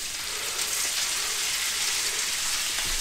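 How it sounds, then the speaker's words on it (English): Chunks of cod kebab sizzle in a hot pan, a steady bright hiss of frying with faint crackles, close and continuous with no talking. "You want a nice sizzle when you drop it in."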